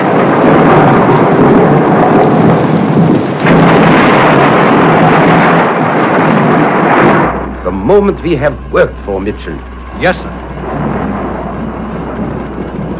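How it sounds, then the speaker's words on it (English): Heavy thunder from a building storm rolls in a loud, continuous rumble for about seven seconds, then drops to a low hum while two men exchange a few words. "The storm's really building up."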